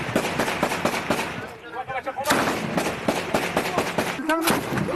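Gunfire from Taliban fighters in a house-to-house fight, loud sharp cracks and bursts repeating irregularly throughout, mixed with speaking voices.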